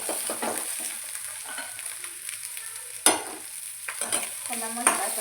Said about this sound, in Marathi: आपण आता याच्यामध्ये ना जे वांगे आपण भाजून घेतलेले होते ना ते वांगे घालायचे आहेत.